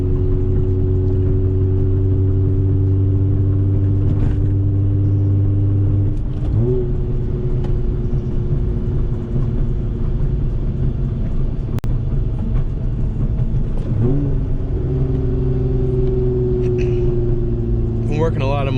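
Manual-transmission sports car engine under steady load from inside the cabin, with pitch rising and falling around two downshifts near the middle and end, steady road rumble beneath.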